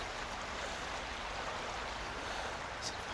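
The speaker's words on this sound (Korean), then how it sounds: "개울 소리를 졸졸졸졸 대면서 오, 수량이 제법 그래도 많이 흐르네요" A small urban creek beside a cafe and restaurant street runs with a steady, full rush of water, a continuous close babble with no voices over it.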